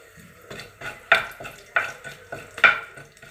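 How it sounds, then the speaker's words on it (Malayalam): Cumin seeds frying in hot oil in a pan for a potato and green peas gravy, a soft steady sizzle punctuated by repeated scraping stirs about every half second. "ഞാനൊരല്പം ജീരകം ഇട്ട് കൊടുക്കുകയാണ്."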